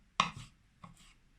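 Two crisp knife chops through quince on a cutting board, close and fairly quiet, a short pause between them.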